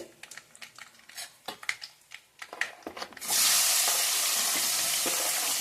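Sliced onions, curry leaves and dried chillies drop into hot oil and burst into a loud, steady sizzle close by, after a run of scattered clinks and stirring taps.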